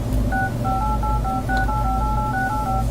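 Keypad tones from a Samsung Galaxy Note phone dialer: a quick series of steady two-note beeps, about a dozen short presses in an even rhythm, loud and close over a constant low hum.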